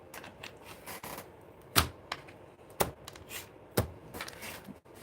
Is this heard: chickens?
no